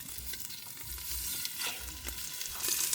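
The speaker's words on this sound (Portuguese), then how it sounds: "essa carne, conforme ela vai dourando, ela vai soltando gordura" Beef ribs browning and sizzling in a hot pan, rendering fat with a steady crackling fry and occasional stirring scrapes, close and moderate in level with no voices.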